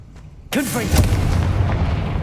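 A Confringo fire spell in Hogwarts Legacy goes off with a sudden loud blast and a crackling, whooshing burst. A second fiery boom follows, and a rumbling tail of game sound carries on under it.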